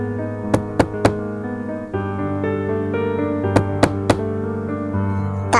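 Knuckles rapping on a wooden door, three sharp knocks, a pause, then three more, heard over a steady droning musical background.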